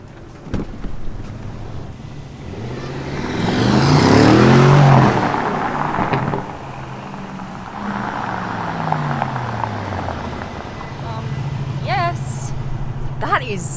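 A rear-wheel-drive luxury SUV pulls away and accelerates, its engine and road noise swelling to a loud peak before easing into a steady cruise, with wind buffeting the microphone and people talking over it.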